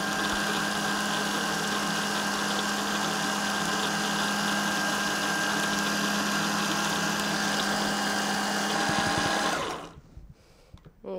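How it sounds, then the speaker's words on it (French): A food processor whirs steadily as it grinds pistachios with a little oil into praline paste, a loud continuous motor drone with a high whine that runs for about nine seconds before cutting off abruptly into near silence. "Et je continue à mixer."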